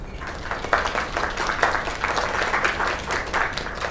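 Steady applause from a crowd in a video game, many hands clapping continuously with a few louder bursts, full and close throughout.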